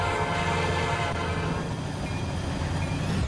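A long train horn blares at a rail crossing in the RO-Scale railroad game, sustained and fairly loud over the rumble and rattle of the rolling train, with no voices.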